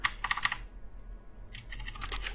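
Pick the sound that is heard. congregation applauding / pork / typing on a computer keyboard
typing on a computer keyboard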